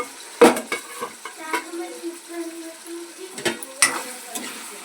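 Amaranth leaves and chopped tomatoes are stirred in a frying pan, giving a soft steady sizzle with a scattering of spatula scrapes and clinks against the pan, close by and without any talk.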